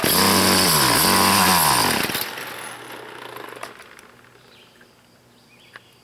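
A weed trimmer's small two-stroke engine, freshly fitted with a rebuilt carburetor and new fuel line, roars loudly at high revs for about two seconds with wavering pitch, then cuts out, leaving faint ambient noise and a soft click.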